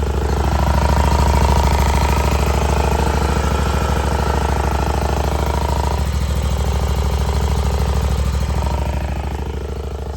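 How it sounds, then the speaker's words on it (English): A used Hustler Raptor XD commercial mower's Kawasaki FR691V engine runs loudly and steadily close by, with a slight engine rattle giving a fast, rattling, chattering pulse throughout, no voices. "there is a little bit of a engine rattle"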